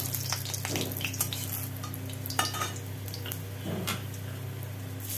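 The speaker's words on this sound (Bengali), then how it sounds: "শুকনো লঙ্কা ফোড়ন দিয়ে দিলাম, তেজপাতা" Dried red chilies and a bay leaf temper in hot mustard oil, a steady close sizzle dotted with sharp crackles and spatters, no voices.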